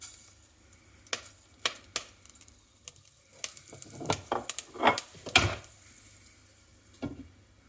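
Mustard seeds hit hot oil in a pan with a quiet sizzle, followed by scattered irregular pops and crackles that cluster in the middle.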